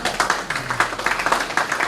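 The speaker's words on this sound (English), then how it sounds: "Clap for them, please." An audience at an aviation careers conference claps steadily, a dense patter of hand claps filling the room, fairly close and alone without talk.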